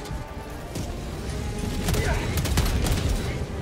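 An autocannon sentry in Helldivers 2 fires a rapid string of heavy, booming shots amid explosions and battlefield clatter, loud and dense throughout.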